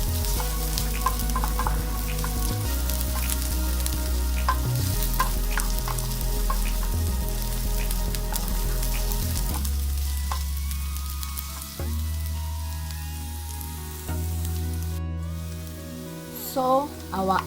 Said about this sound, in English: So we just put a little oil to saute our onions.